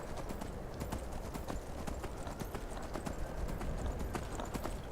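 Horse hooves galloping steadily in Skyrim, a fast continuous clip-clop rhythm close and loud throughout, with faint game ambience beneath and no talk.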